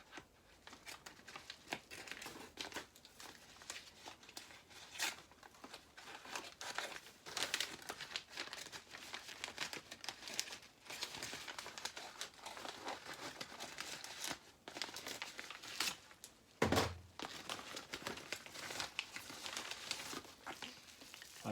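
A plastic delivery bag crinkles and rustles steadily as personalised items are unpacked from a VivaMk delivery, with a sharper crunching burst near the end; no one speaks.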